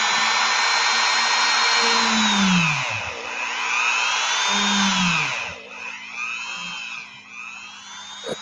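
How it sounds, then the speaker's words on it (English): A small power drill re-bores holes in an action figure part, whining in rising and falling bursts with a brief pause, fairly close and alone. "And re-drill the holes a little bit."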